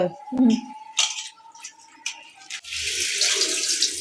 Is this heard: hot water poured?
yes